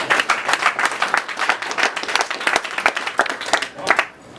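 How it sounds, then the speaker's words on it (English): An audience at a lecture breaks into applause, dense clapping from many hands sustained for a few seconds at close range before tapering off abruptly. "let's give the sister a round of applause."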